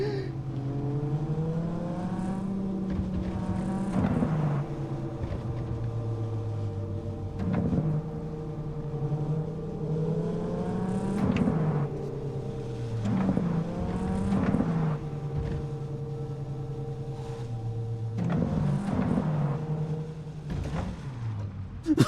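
A car in the video game Cyberpunk 2077, driven in first person, with its engine droning loudly and steadily and repeatedly revving up and dropping back as it shifts, alone with no talk.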